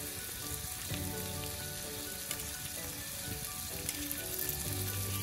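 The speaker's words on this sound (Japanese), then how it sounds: "レバーを入れて炒めていく" Liver sizzling and frying in a frying pan over a camp stove, a steady close crackle and hiss with light stirring noises, no voices.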